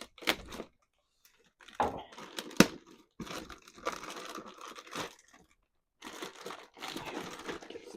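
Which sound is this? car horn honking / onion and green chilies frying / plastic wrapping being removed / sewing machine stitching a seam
plastic wrapping being removed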